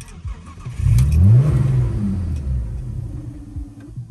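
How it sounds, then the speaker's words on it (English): An Audi's engine cranks and catches with a rising rumble, briefly revs, then sags and fades out as it dies almost at once, close and fairly loud with no talking. "Audi starts and then dies immediately"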